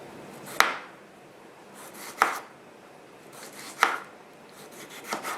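A knife slicing washed Roma tomatoes thinly on a cutting board: four distinct crisp cuts spaced about a second and a half apart, each a sharp board tap with a brief rasping drag, close and moderately loud, with no talking.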